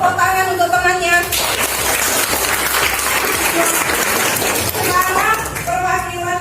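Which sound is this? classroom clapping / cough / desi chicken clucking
classroom clapping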